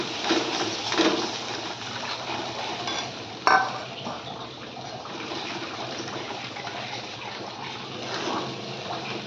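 Water poured into a pan of fish cooking in mustard paste, giving a steady splashing, bubbling wash with a sharp clink partway through, close and moderately loud.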